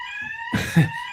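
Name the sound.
building fire alarm going off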